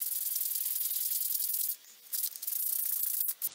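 Steady broadband rasping of sanding on repaired wood of a mid-century modern chair, continuous and close, with a brief pause partway through and a short sharp tap near the end.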